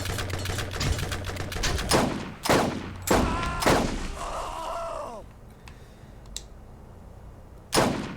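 Heavy bursts of Gatling turret fire in the shooter game Borderlands, several loud broadband volleys spread across the stretch with short gaps, no talk over them.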